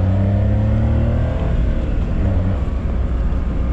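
A small manual kei sports car, either a Honda Beat or a Suzuki Cappuccino, driving with a steady droning engine note that shifts slightly in pitch, close and loud with no talk over it.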